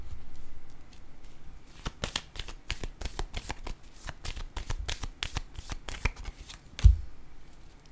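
Tarot cards being shuffled and handled, a quick run of crisp riffling flutters and slaps, close and fairly quiet, ending with a soft thump as a card is laid down.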